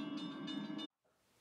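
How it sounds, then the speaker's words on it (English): A Williams by Bachmann model train runs with operating freight cars, giving a steady, loud mechanical whine with a bright tonal hum for almost a second, then cutting to near silence before a faint low rumble returns. "In this episode, I'll be showing you Williams by Bachmann operating freight cars."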